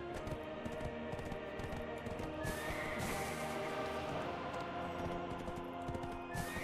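A horse in the online role-playing game Black Desert Online whinnies while its hooves clip-clop in a steady gait, with game sounds continuing around it and no talk.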